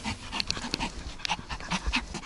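A dog panting on a train journey, quick breathy huffs in an uneven rhythm, close and fairly clear over light background noise.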